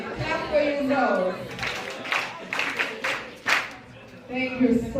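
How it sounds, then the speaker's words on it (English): Students at a high school International Youth Day event in Gayaza break into a short burst of clapping for themselves, with a voice talking before and after the applause. "Clap for yourself."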